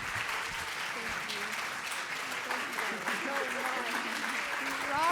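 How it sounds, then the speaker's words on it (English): Audience applause for a youth panel at an ideas lab event, a steady wash of crowd clapping throughout, with voices talking faintly underneath. "Can we have a huge round of applause for these?"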